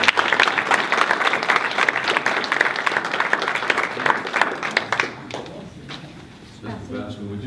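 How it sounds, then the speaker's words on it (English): An audience in a meeting room claps for Mr. Bassman, a dense burst of applause for about five seconds that thins and fades out, followed by a few words of talk at the end. "could we give a round of applause for Mr."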